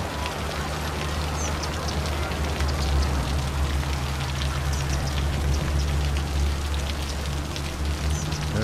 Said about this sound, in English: Got rain pouring.